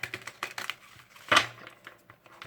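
Quick, crisp clicks and light slaps of tarot cards being shuffled up close, with one louder flick partway through; no talking.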